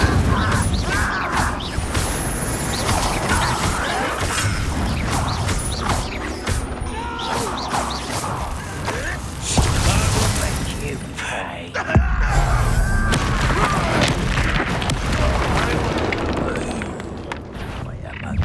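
Incendio fire spell blasts in the video game Hogwarts Legacy crackle and whoosh amid dense game noise, creaks and crashes, with voices talking over much of it.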